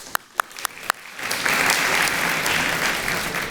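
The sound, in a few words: audience applause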